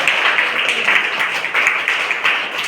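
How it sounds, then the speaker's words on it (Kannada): A crowd claps at a function at a government higher primary school in Aliyabad, Vijayapura taluk, giving sustained, fairly loud applause with slight rises and falls and some voices mixed in. "ಅವ್ರಿಗೆ ಚಪ್ಪಾಳೆ"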